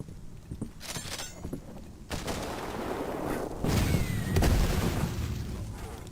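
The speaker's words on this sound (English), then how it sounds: "A rocket launcher." Rocket launcher blasts in the first-person shooter Cultic: a string of booming explosions and shots, sporadic at first and then building into a heavy, rumbling barrage that grows louder toward the end.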